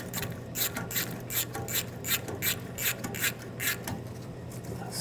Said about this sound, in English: Loosen up the clamp.